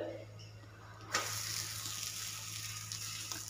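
A spinach and paneer paratha laid onto a hot griddle, a sudden sizzle burst as it hits the surface, settling into a faint steady hiss.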